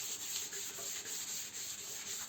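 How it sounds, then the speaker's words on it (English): Sandpaper rubs steadily over the painted steel fuel tank of a 1950 Triumph Thunderbird motorcycle, a continuous close, even scratchy hiss with slight rhythmic swells and no voices. "sanding one way, give it a good rub."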